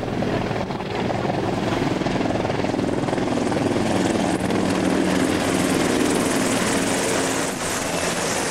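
Aircraft passing low overhead in a flyby salute at Key West, a steady loud rotor-like engine roar that holds throughout with no talking.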